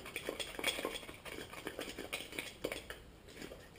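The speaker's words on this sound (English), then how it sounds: "Stir that up a bit. Try to mix the two." A homemade Sterno mixture with perlite being stirred in a container, giving repeated close scraping and clinking strokes in an uneven rhythm, with no talking.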